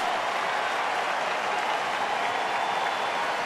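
A packed baseball stadium crowd roars and applauds a strikeout by the Detroit pitcher during a Cleveland at Detroit game, a dense steady wash of clapping and cheering that holds at full volume throughout.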